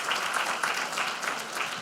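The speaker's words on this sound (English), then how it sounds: "Give them a round of applause." Audience applause for a group of community college students at a leadership talk, a brief, moderately soft burst of many hands clapping steadily.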